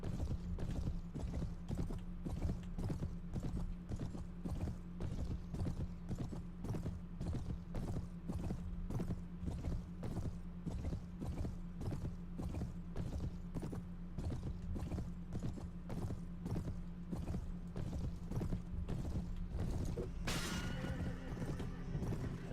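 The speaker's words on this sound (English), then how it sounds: "Horse." Steady, evenly paced horse hoofbeats trotting throughout in Mount and Blade: Warband, close and consistent, with faint creaking and a brief whinny near the end.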